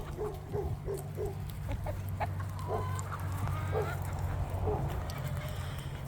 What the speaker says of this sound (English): Bunch of chickens, though.